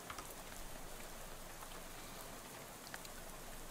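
Soft, steady rain pattering against a window in the game Shadows Over Loathing, a faint even patter with occasional slightly sharper drops, no voices.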